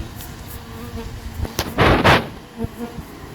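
Honeybees buzz in swelling, close bursts as they are brushed back down into a hive box, the drone rising loudest midway then easing, with a low background hum throughout.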